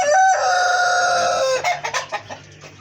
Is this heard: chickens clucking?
yes